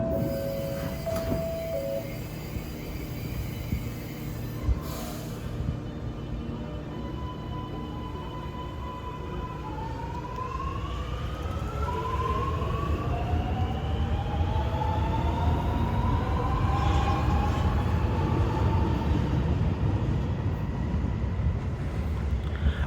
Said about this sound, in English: Train doors closing.